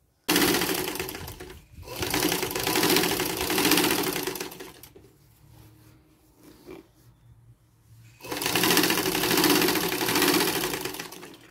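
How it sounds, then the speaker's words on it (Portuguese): Sewing machine stitching all the way around a denim and cotton tote bag, running in long steady bursts with a quieter pause in the middle before the motor picks up again, with no talking. "vou passar a costura em toda a volta e já volto para mostrar para vocês"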